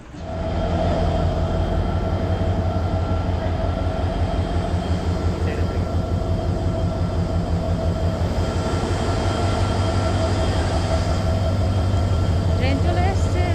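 A train arriving at a station on the early-morning Chittagong to Cox's Bazar route, a loud continuous rumble and rhythmic clatter of wheels that builds in quickly and holds steady, with people talking on the platform.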